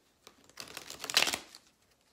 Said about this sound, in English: shuffling seems like it should be a pretty easy exercise, but I screwed up 9 times out of 10